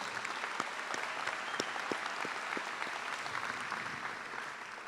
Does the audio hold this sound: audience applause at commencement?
yes